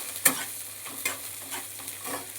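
Chopped onion frying in a pan for a soybean and vegetable do-pyaza, stirred with a few distinct scraping strokes over a faint, steady sizzle; no voices.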